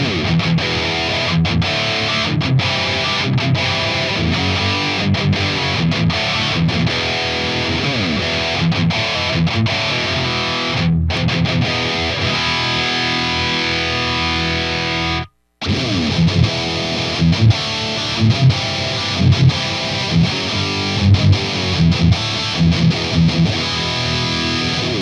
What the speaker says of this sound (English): So now let's switch over to the clean channel with the contour off, or the mid boost off on both units, and see how they sound.